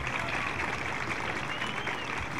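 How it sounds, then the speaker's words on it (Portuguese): A crowd at a city anniversary session applauds the Tigres de Ouro marching band, a dense and steady wash of clapping that holds for the whole stretch. "Vamos aplaudir, pessoal, a fanfarra Tigres de Ouro."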